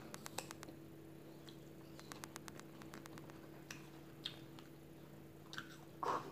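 Someone bites and chews food, including cucumber, close to the microphone, with soft repeated crunchy clicks in bursts over a faint steady hum.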